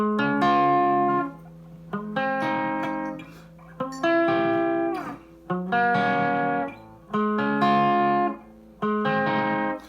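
An electric guitar picks out chord arpeggios, notes ringing one after another, each phrase decaying before the next begins in a steady pattern.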